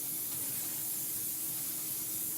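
Cooking spray hisses from an aerosol can into a 13 by 9 baking pan, a single steady, fairly quiet burst lasting a couple of seconds.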